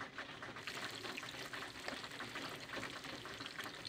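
Freshwater prawns cook as adobo with broth in a pan, giving a steady, close bubbling sizzle with small crackles and no talk.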